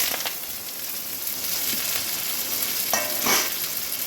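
Urad dal spluttering and sizzling in hot coconut oil in a pan, a steady close frying hiss with a few sharper crackles, no voices.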